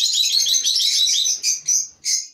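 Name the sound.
budgerigars chirping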